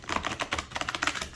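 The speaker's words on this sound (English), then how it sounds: "Let me get a good shuffle in." A tarot card deck is shuffled in rapid, papery riffling bursts, a busy run of quick, crisp flutters close up with no talk.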